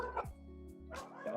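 Dogs barking and yipping in a short burst of a couple of sharp barks, fairly close, with a steady electronic hum underneath and voices around them.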